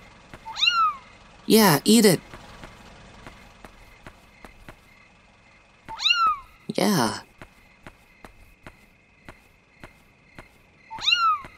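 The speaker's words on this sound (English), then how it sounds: "Kitty. Good kitties." Cat meows from the video game Yomawari: Night Alone, several short rising mews repeating at intervals, with a person speaking briefly between them.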